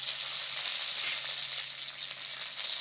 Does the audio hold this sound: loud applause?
no